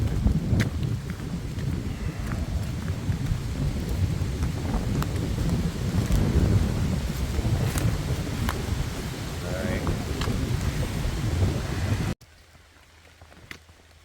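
Hurricane Ian storm on the summit of Mount Priest along the Appalachian Trail, heard from inside a trail shelter: steady loud roaring wind and pouring rain lasting about twelve seconds, then dropping abruptly to a quieter background.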